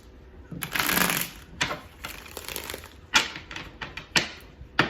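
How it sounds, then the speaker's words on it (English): Tarot cards are shuffled close by, with a long riffling rush followed by several sharp slaps and snaps as the deck is cut and squared. "One more shuffle."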